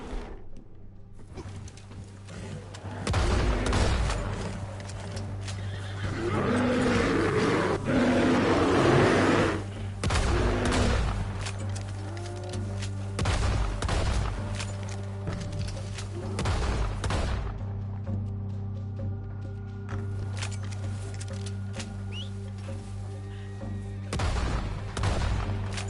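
Gunshots and booming blasts in the video game Red Dead Redemption come as irregular bursts of sharp reports and heavier thuds over a steady low hum, with quieter gaps between volleys.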